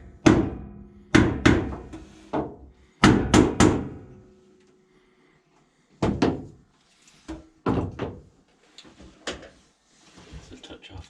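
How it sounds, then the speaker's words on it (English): A hammer taps baseboard trim into place with close, sharp knocks that come in quick clusters separated by short pauses. "It's using an actual hammer."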